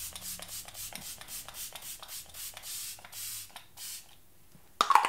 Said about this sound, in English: I'm gonna take my Patrick Starrr One Size Preserve the Serve Luminous Setting Mist and spray my face.